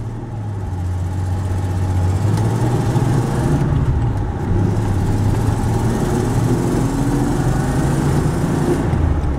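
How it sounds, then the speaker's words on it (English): A car engine drops into second gear and accelerates, its steady mid-pitched drone rising in pitch as it picks up speed, constant and near throughout. "I'll downshift into 2nd. So we'll get accelerating again here"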